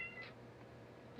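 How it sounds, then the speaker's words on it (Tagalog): A cat meows amid other noisy household pets, a short cry standing out near the start over a steady background hum. "ang isa sige ngiyaw"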